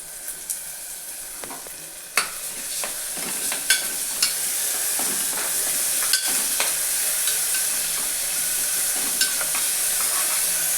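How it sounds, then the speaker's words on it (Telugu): Masala paste of coconut, garlic, ginger and coriander frying in a pan for spicy mutton curry, a steady close sizzle with occasional scraping stir clicks, growing slightly louder over time. "పచ్చివాసన పోయే వరకు వేపుకోవాలి"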